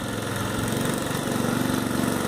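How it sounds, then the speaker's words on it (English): A local long-tail boat with a Honda engine and a straight long prop passes on the Kerala backwaters near Alleppey, its motor droning steadily and fairly loud throughout. "local style boat going past, and not the normal kind of outboard that you'd expect to find in Europe, but actually a straight prop, normally a Honda engine"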